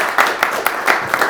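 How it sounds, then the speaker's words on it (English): Scattered applause fills a graduation ceremony hall as an award is presented, with uneven, overlapping claps that swell in a few louder bursts over steady crowd noise. "Round of applause."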